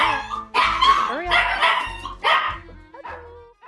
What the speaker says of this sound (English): So that was, by far, the most barking and reactivity I have seen out of Daisy since I first met her.